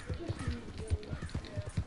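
Horse hooves galloping in the video game Red Dead Redemption 2, a rhythmic run of thudding beats at close range, with game voices and background sound mixed over the strides.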